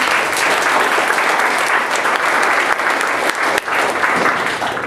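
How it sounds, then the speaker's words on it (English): An audience at a junior developer panel gives a sustained, dense round of applause, loud and close, with steady clapping and no talk. "maybe a big round of applause for them"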